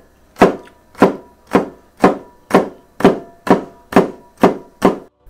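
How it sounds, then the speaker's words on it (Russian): Ten evenly spaced knife chops land on a cutting board while cutting a bell pepper, each a sharp close thunk with a short decay, in a slow steady rhythm. "Таким же способом нарезаем болгарский перец."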